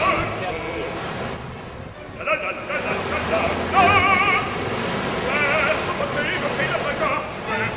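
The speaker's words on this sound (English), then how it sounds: "This is the beach." A Sicilian beach with steady wind noise and surf washing in, faint people's voices in the background, fairly loud and continuous with small swells over the stretch.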